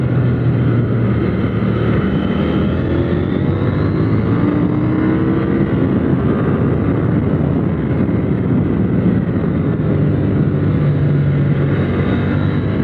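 A KTM 890 Duke R motorcycle engine drones steadily and loudly around a go-kart track, holding a sustained roar with gentle rises and falls in pitch as revs drop and build through the corners, with no talk.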